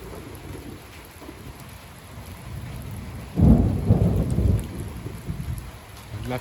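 Steady rain falls through a humid summer evening thunderstorm, then a loud, close rumble of thunder rolls in around the midpoint and fades slowly over several seconds, with no voices.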